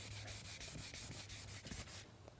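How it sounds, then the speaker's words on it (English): Rhythmic back-and-forth scrubbing of 600 grit sandpaper over chipped car paint, about a dozen quick, even strokes, close and quiet, stopping near the end. "Since these chips are a little bit more severe, I'm going to have to sand them and feather them in."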